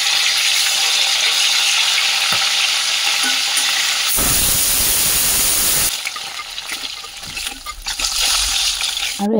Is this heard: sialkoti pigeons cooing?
no